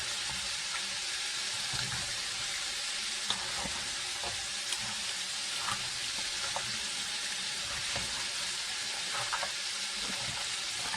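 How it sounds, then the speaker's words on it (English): Cabbage, tomatoes and meat are stirred together in a sizzling cast iron pan, giving steady frying hiss with scattered scraping and clinking from the utensil throughout. "I'll get this all mixed up"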